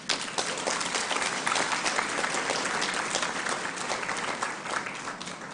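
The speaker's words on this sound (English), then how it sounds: "I too would like the graduates to applaud themselves as well as your family that are here with you today" Steady, dense applause from a large audience at a university convocation ceremony, sustained at an even level throughout with no pauses.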